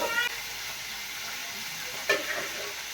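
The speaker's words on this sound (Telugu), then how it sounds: "ఇప్పుడు నూనెలో అయితే ఉడకబెట్టిన చికెన్ వేసేస్తాను." Boiled chicken pieces frying in hot oil give a steady, soft sizzle and hiss that carries on throughout, with a brief crackle burst near the end and no talking.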